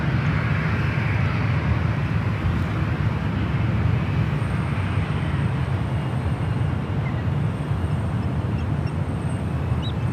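A Boeing 777 airliner rumbles at San Francisco airport, a steady broad roar of jet engines and ground traffic heard from a distance and holding at an even level throughout.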